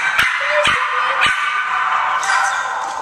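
A three-year-old Cocker Spaniel mix barks three times in short, sharp yips at an animal shelter, loud and close over a steady background hum of kennel noise.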